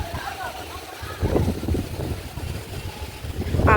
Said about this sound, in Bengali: প্রচন্ড হাওয়া ছেড়েছে, ঝড় উঠছে, বিদ্যুৎ চমকাচ্ছে